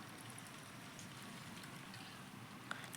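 Rain falling in the Real Cricket 24 video game, a faint steady hiss of drops filling the short clip, with no talk.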